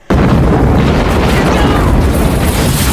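In a Van Damme and Dennis Rodman action film, a chain of landmines detonates into one huge explosion, a sudden loud blast that swells into a sustained roaring rumble for several seconds.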